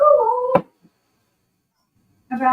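A large 22-pound cat meows loudly and close, with one drawn-out meow that ends in a sharp knock, then a short silence before a second meow begins.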